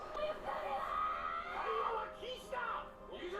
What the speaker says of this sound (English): She's not talking, she's screaming